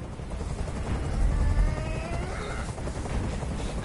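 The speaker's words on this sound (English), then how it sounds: "I can't stand that noise anymore. Tell that helicopter to get out of here." A helicopter hovering nearby during a hostage standoff in the game Detroit: Become Human, a continuous low rotor rumble and drone that swells briefly in the middle and holds steady to the end.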